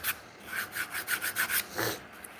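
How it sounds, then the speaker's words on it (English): A custom Trackmaster model being sanded by hand, giving a steady run of short, rhythmic rasping strokes close to the microphone, with a brief pause and one longer stroke near the end. "It's hard work sanding this."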